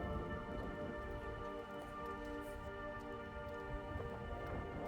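Rain falls steadily over hills in Maharashtra during the monsoon, a faint continuous hiss with occasional louder drops and no voices.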